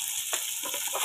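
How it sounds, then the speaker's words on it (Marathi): Onion, mustard seeds and cumin fry in hot oil, a steady soft sizzle with a few small crackles and pops, close and alone for about a second. "ह्याच्यात घेतलं तेल टाकून, थोडीशी मोहरी, थोडीशी जिरी, हा आणि कांदा टाकून घ्यायचा."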